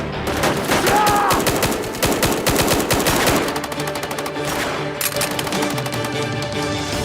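Heavy gunfire in a firefight, with rapid automatic bursts and overlapping shots rattling loudly and continuously throughout, dense and close.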